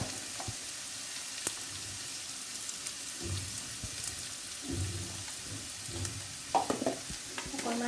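Ground spices (salt, turmeric, cumin, coriander and red chili powder) fry in a pan in a home kitchen, giving a soft continuous sizzle broken by intermittent scraping stirs, with no talking.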